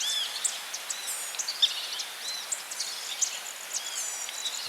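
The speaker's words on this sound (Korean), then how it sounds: "새소리가 가득한 경내." Birds sing and chirp steadily in temple grounds, with repeated bright calls and twitters near and far over a quiet background, no voices heard.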